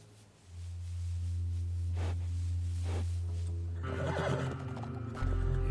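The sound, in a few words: horse neighing and hooves in video game Red Dead Redemption II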